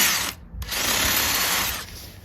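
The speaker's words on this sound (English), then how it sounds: "I'm gonna get a drill and drill that out a little bit." Power drill spinning up to enlarge a bolt hole, running loud and close, cutting out briefly, then whining on steadily before easing off.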